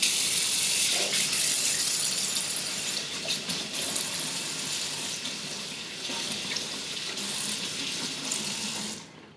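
Tap water runs steadily into a sink as hands are washed before cooking white rice, a loud, continuous close splashing rush that holds for several seconds and then cuts off abruptly at the end, with no voices.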